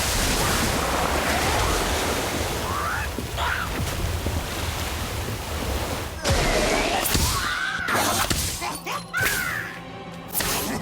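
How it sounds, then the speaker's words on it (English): A rushing, watery magical whoosh of an Orb of Water spell in Harry Potter: Magic Awakened surges and crackles, with splashing bursts and bright swirling tones near the end, loud and dense throughout. "Orb of water."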